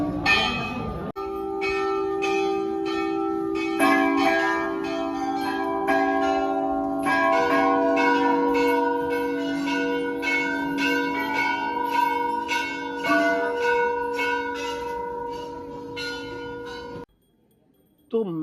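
Many temple bells ring at the Golu Devta temple in Ghorakhal, Nainital, Uttarakhand, with repeated metallic strikes layering into a sustained, humming chorus for about seventeen seconds before stopping abruptly.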